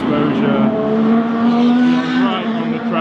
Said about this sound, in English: The cars are so loud.